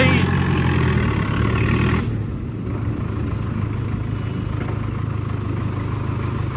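A tractor engine runs steadily nearby, a loud low rumbling drone; the pitch and texture shift around two seconds in and it then settles into an even idle, with no talking heard over it.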